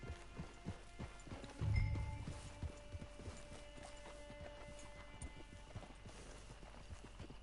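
Horse hooves clip-clop at a walking pace in the Red Dead Redemption Online game, a soft, steady rhythm near the listener with a brief low thump partway through and faint ambient background.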